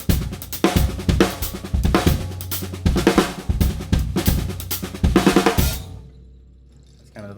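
A drum kit plays an inverted doubles groove in straight time, with busy, even strokes and punchy kick hits, loud and close, ending after about six seconds as the final hit rings out and decays.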